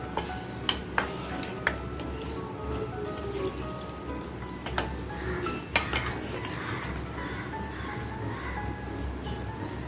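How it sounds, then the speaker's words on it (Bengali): Paneer is mixed into a spice mixture in a metal bowl, with sharp irregular clinks and taps of a spoon against the bowl over a soft mushy background. "ভালো করে মিশ্রণটার সাথে মিশিয়ে নিচ্ছি।"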